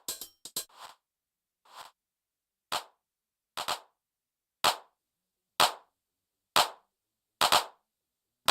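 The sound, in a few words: drum machine hand clap sample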